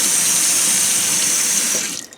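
A hot water faucet gushes steadily and loudly close by while a hat crown is soaked, then the flow cuts off and fades out in the final moments, with no one speaking.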